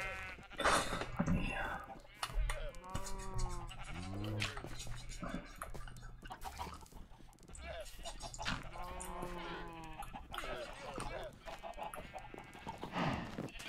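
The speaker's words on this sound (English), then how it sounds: "Oh yeah, that sheep's dying, never mind." Minecraft sheep bleat repeatedly in short wavering calls, several clear bursts spread through the stretch amid clopping hooves and other farm animal noises, while players talk over them.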